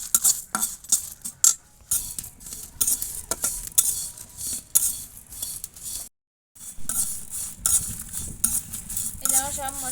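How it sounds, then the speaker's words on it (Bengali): Whole spices including fennel and dried chilies for a raw mango pickle are stirred and dry-roasted in a pan, a spatula scraping and clinking repeatedly over a faint sizzle, with a brief silent gap. "এবার আমি নেড়ে চেড়ে মশলাগুলো ভেজে নেব"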